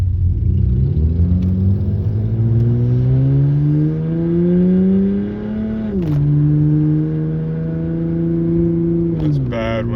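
A truck engine drones loudly while driving, its pitch climbing steadily through a gear, dropping at a shift, then rising again before another shift, close and continuous.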